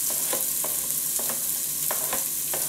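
Onion sizzles loudly in a third of a cup of very hot fat over high flame while hog meat is prepared with wine, a steady close frying hiss broken by periodic stirring scrapes.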